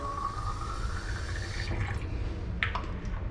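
Water pours steadily into a Preval sprayer container of thinned paint, a continuous liquid rush with the pitch rising as it fills, followed by a few small drips and splashes.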